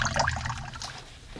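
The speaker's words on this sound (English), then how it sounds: "I just took these out of the water" Ranunculus corms are lifted out of their soaking water, giving short splashes, trickles and drips close by that fade to a quieter dribble.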